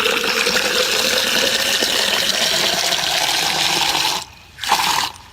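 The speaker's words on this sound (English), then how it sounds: "I'm going to fill it up with water, so you can see that." Water rushes steadily into a tube being filled for a hydrogen gas experiment, a constant hiss that drops away abruptly near the end, briefly resumes, then cuts off again.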